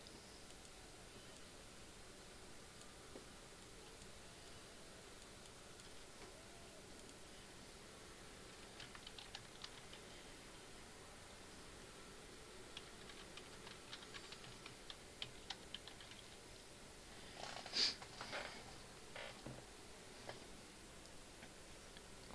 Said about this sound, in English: Why am I still typing?